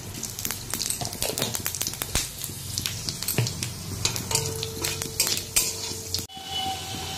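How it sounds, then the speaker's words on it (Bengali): Dried red chillies and five-spice seeds crackle in hot oil for a vegetable curry, a close sizzle broken by sharp pops and clinking pan sounds, fading briefly near the end. "এখন নিরামিষ ঝোলটা বসানোর জন্য শুকনো লঙ্কা, আর 5 ফোড়ন।"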